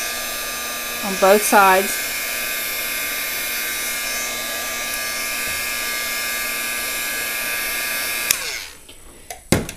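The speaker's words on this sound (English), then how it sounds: "I'm going to hit it for just a second with my heat tool" A heat tool blows hot air in a steady, even whoosh to dry a craft dogwood flower, running loud and continuous for several seconds before cutting off, with brief talking near the start.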